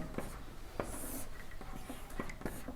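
A pen scratching out a maths solution on paper, with quiet uneven strokes and taps, soft and close, and faint whispery breath behind them.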